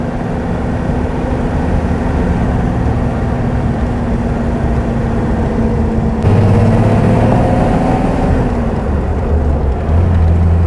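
A 1938 Mercedes 320 Cabriolet A driving along, with a steady low engine hum and road rumble that continue throughout and rise slightly partway through.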